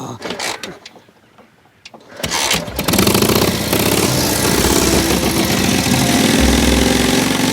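Old motorcycle with a suicide clutch: its engine catches after a quiet stretch and then runs loud and close with a rough, steady chugging idle.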